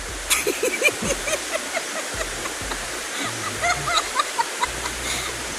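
River water at a village riverside rushes steadily in a dense, continuous wash with occasional splashes, fairly close, while faint voices are heard in the background.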